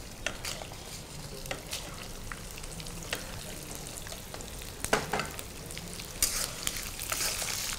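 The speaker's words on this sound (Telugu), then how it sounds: "ఇప్పుడు దీంట్లో మనం ఎండుమిర్చి వేసుకుందామండి" Dried red chillies dropped into hot tempering oil with fried dry fruits for pulihora, a soft steady crackling sizzle with light stirring scrapes, close and moderate, alone without talk.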